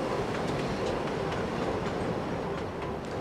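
A train rumbles past close by, wheels clattering steadily on the rails in a dense, continuous roar with no voices.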